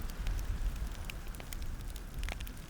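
A campfire in a winter forest crackles steadily with a low rumble of flames and scattered sharp snaps from burning branches, close and fairly loud, with no voices.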